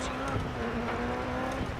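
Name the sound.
rally car driving a stage in video game DiRT 4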